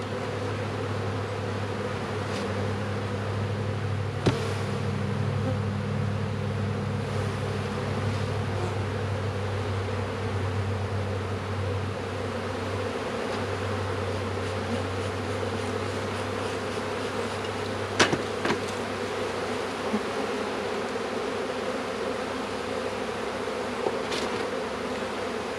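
Honeybees buzz around an open hive colony during a queen installation, a continuous droning hum with brief sharper knocks and handling sounds, fairly close and steady.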